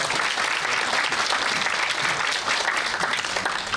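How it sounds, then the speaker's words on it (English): Sustained audience applause at a corporate presentation, dense and steady clapping filling the full length without pause, fairly loud and close. "Let's give a round of applause to our"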